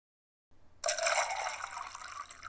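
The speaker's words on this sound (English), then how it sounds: "pouring a cup of cider" Apple cider poured into a cup: after a brief quiet moment a steady, close liquid stream gushes in and fills it, trailing off slightly toward the end.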